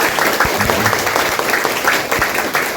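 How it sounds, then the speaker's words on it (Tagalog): Loud, steady applause from a business seminar audience welcoming first-timers, dense clapping sustained throughout with a few sharper claps standing out. "Palakpakan nga po natin yung mga first-timer. Yung mas malakas po na palakpak."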